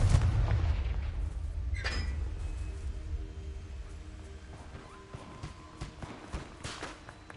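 A Confringo blast spell from the Hogwarts Legacy video game erupts in a deep, booming rumble at the start, followed by a sharp crack and a long, noisy, crackling tail.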